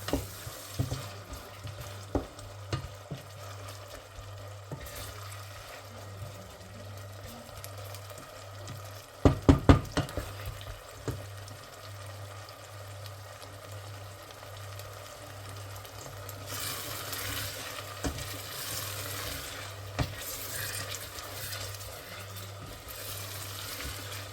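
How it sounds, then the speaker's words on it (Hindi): Zucchini and tomato frying in a pan until soft make a quiet sizzle under a low steady hum. Scattered clinks and scrapes of stirring run throughout, with a brief cluster of sharper knocks midway. "इसको भूनेंगे सॉफ्ट होने तक"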